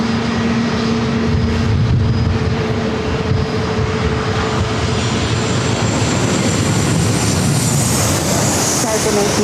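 An airliner at San Diego airport sends a loud, sustained jet engine roar, with whining tones rising toward the end, heard close over continuous background wash.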